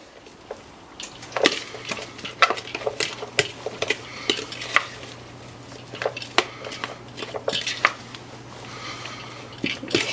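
Meatball mixture being stirred in a bowl with a utensil, producing repeated clinks and scraping taps against the dish in an irregular rhythm over a low steady hum, close and moderately loud.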